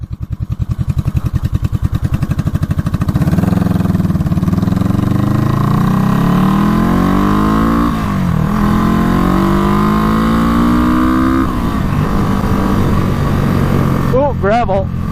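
Honda CB350 barn-find motorcycle engine running loud and close, a throbbing idle that revs up into a steady riding drone with shifting pitch as it accelerates and eases off, with a brief voice near the end.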